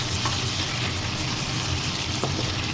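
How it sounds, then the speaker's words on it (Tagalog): Chopped garlic sizzling steadily in hot cooking oil in a pan, a dense continuous crackle with faint stirring, close up and without talk. "nagbukas lang tayo ng mantika dyan. Then bawang na tayo dyan."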